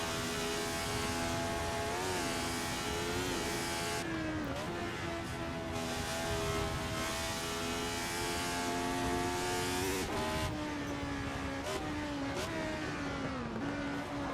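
A race car's engine drones loudly and continuously at Circuit Clermont-Ferrand, its pitch dropping sharply several times as the driver brakes and downshifts to second gear, then climbing again.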